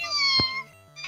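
A human voice imitates the Pokémon Mew's cry with a very high-pitched, kitten-like meow, one loud close call with a short rise at the end, and no other talking.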